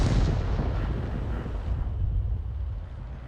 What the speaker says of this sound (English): Arty firing our direction.